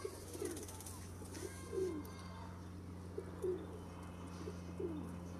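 Home-bred pigeons of the Mian Nazeer bloodline coo softly at home, a few faint rolling coos spaced out over a low steady electrical hum.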